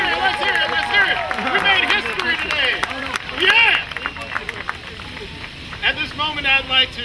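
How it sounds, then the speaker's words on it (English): Outdoor crowd clapping and cheering at the arrival of a steam-hauled circus train, uneven bursts of applause with someone shouting over it and wind buffeting the microphone. "how about a bigger round of applause for this beautiful piece of machinery back here?"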